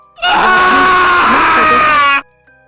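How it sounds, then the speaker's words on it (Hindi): Dramatized horror sound effect of a man screaming, a single loud sustained wail of about two seconds that cuts off abruptly into near silence. "और पति की चीख सुनाई दी"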